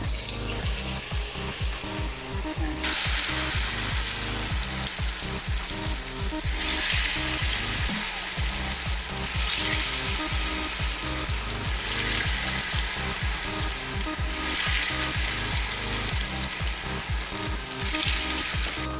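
Pesara pappu burelu, dipped lentil dumplings, sizzle and crackle as they fry in hot oil, a dense continuous bubbling with occasional louder spatters and stirring, close and steady throughout.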